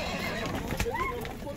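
A horse neighs at a busy livestock market, a short whinny rising above a constant crowd murmur and background talk.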